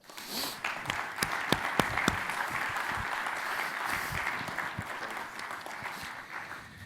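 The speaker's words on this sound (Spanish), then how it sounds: "le pido un aplauso para él" A debate audience applauds a guest invited on stage at a pensions event, sustained moderate clapping with a few sharper near claps early, steady and even to the end with no talk over it.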